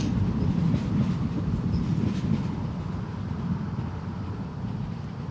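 A SunExpress airliner rolls down the runway at Newcastle International Airport, a steady, broad low rumble with a faint rushing hiss that holds evenly throughout and heard from a distance.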